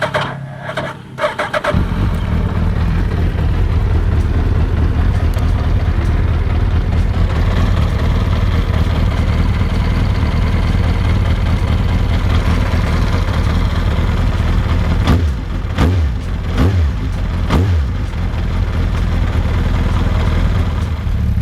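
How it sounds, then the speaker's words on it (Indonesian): A first-generation Suzuki Hayabusa 1300 idles on its stock exhaust, a loud, steady, deep rumble that runs almost the whole time, with a few brief throttle blips near the end. "penasaran bunyinya si knalpot Hayabusa yang standar ini kayak apa sih bunyinya"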